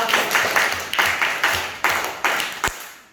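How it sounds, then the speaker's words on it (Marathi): A first-grade class at a village school in Manegaon claps together for a pupil named Veda, producing steady rhythmic bursts of group clapping, close and fairly loud, about six beats ending in a final sharp clap. "चला वेदांसाठी टाळ्या"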